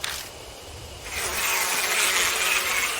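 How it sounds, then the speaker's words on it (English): A swarm of bees in the video game Death Mark, buzzing steadily as they hover around a motionless body, a soft drone that swells and grows denser after the first second and then holds at a constant level. "The bees continue to hover around the still Shimi."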